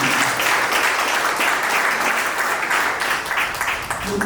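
Wedding guests at a civil marriage ceremony applaud together in a dense, steady clatter of clapping that fills the room for several seconds without a break.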